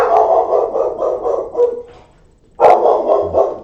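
A pet dog barks loudly and close in a home, a run of rapid barks, a short pause, then another burst of barking, with no voices.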